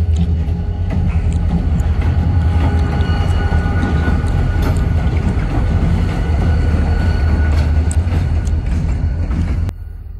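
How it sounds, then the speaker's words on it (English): A short train rolls along the track nearby, with a steady loud rumble and faint wheel clatter that holds for the whole stretch, then drops slightly at the end. "I didn't realize they were gonna pull the train up this way"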